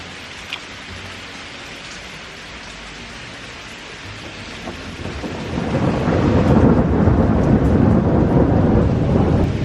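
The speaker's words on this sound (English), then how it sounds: "it's just started storming, there's thunder and lightning" A thunderstorm rolls outside an open window: steady rain hisses throughout, then a deep, loud thunder rumble swells and lingers in the second half.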